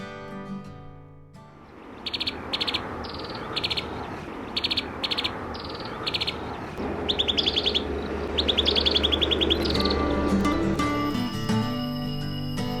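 Cambodian tailorbird calls ring out in repeated bright, sharp chirps, delivered in quick clustered bursts against dense floodplain bush ambience, close and clear, growing busier toward the end.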